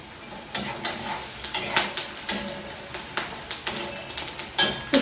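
A dry cauliflower sabzi with onion, garlic and coarse gram flour being stirred in a pan, a spoon scraping and clinking in a steady series of sharp strokes over a soft sizzle of frying.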